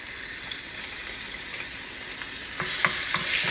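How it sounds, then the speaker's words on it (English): Homemade sofrito of garlic, small green peppers and oregano sautés in a pan, a steady soft sizzle that swells near the end with a few quick scraping stirs. "I saute this together"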